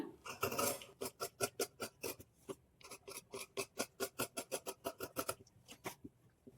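Scissors cut through blouse sleeve fabric in quick, rhythmic snips, about two or three per second, close and fairly quiet, with a brief pause partway through.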